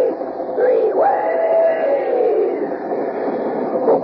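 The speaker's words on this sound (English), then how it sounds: "come on there, swing aboard our famous talking train" Train sound effect from an old radio advertisement, a rumbling locomotive with a rising whistle-like tone running steadily for several seconds, loud and close, with no talk over it.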